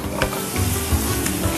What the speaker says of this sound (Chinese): 香煎三文鱼骨